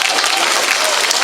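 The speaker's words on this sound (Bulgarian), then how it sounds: "Госпожо Тодорова, аплодисменти за вас!" A hall audience at a Dimitrovgrad culture award ceremony breaks into dense, sustained applause, a loud, even wash of many hands clapping together with no pauses.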